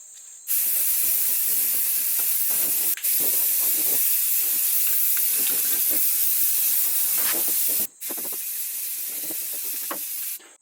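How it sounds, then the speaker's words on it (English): A spray can of rust sealer hisses loudly in three long bursts, with brief pauses between them, close to the listener and steady in tone. "I'm going to just spray it and leave it for like an hour"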